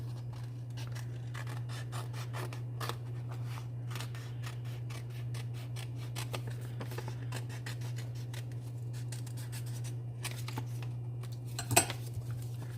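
Scissors snip and rasp around the edge of a stamped paper card in a long series of small, quiet cuts over a steady low hum, with one sharper clip near the end and no speech.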